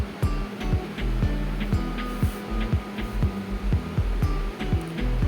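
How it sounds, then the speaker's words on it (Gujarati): A kilogram of mangoes is washed by hand in water, producing repeated sloshing splashes in a quick, uneven rhythm, close and moderately loud. "તો તેના માટે 1 કિલો કેરી લીધી છે, તો તેને સારી રીતે ધોઈ લેવાની છે"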